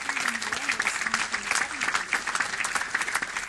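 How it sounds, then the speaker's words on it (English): A room at a city council meeting applauds the team captains, dense steady clapping from many hands carrying on for several seconds with a voice faintly underneath. "let's have a round of applause for the team captains"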